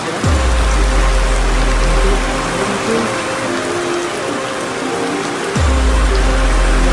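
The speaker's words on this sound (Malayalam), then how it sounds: "ഇവിടെ നല്ല മഴയാണ്." Heavy rain pours steadily and loudly, a dense continuous roar of water with a low rumble underneath, no voices.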